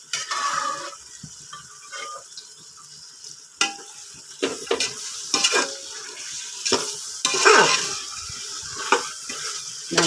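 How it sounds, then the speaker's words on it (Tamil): Mutton pieces sautéed with a tomato and onion paste in a pot, a spoon scraping and stirring in irregular strokes over a soft, steady sizzle, with occasional clanks against the metal, close and without talk. "நல்லா கிண்டி விட்டு அந்த சாந்து தக்காளி வெங்காயம் சாந்து கறியோட சேர்ந்து"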